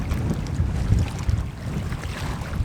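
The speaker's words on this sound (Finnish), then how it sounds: "Tuuli vaan yltyy." Gusty wind on a lake in Norway roars and buffets the microphone in a low, continuous rumble, with no voices.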